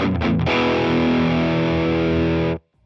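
Electric guitar played through a YERASOV distortion pedal with the tone knob turned down, a thick sustained distorted chord after a few quick picked notes, loud and alone, cut off abruptly near the end.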